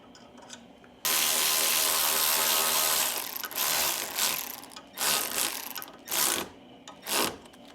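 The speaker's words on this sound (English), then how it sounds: "Now these are going to get torqued to 30 foot-pounds, followed by 60 degrees." Torque wrench tightening bolts on a Ford 6.0 forged short block, a loud sustained whir followed by several short bursts of ratcheting in separate pulls, close up with no voices.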